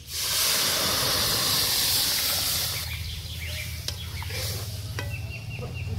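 Dal lentils tipped into hot oil with ginger paste, turmeric, chilli and cumin powder, a loud sizzling hiss that surges then settles into a quieter bubbling crackle.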